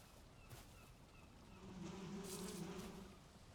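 Bees in the survival game Valheim give a low, steady buzzing hum that swells in the middle and stays soft and continuous, with no talk over it.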